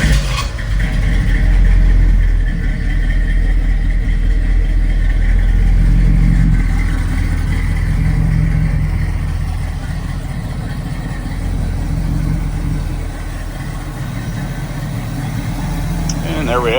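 A 1967 Pontiac Firebird V8 cranking to life after a couple of pumps, then revving loudly before settling into a steady, rumbling idle up close, with someone talking now and then over the engine.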